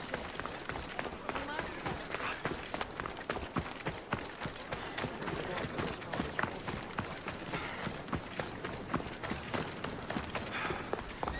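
Horse hooves pound at a rapid gallop in Assassin's Creed Odyssey, a steady stream of quick beats woven into a dense, busy layer of game noise.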